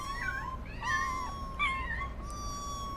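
A cat meows several times, clear and close, in drawn-out rising and falling calls over a steady background hum, with no talking.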